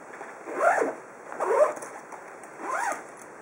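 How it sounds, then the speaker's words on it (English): The zipper on the carry bag of a 150-watt amplified speaker is pulled shut in three separate close strokes, each a crisp rasp, with short pauses between them. "Zip it up and it's ready to be returned."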